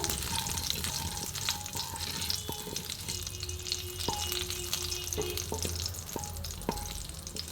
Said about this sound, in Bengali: এই কালো জিরেটা একটু ভাজা ভাজা করে নিই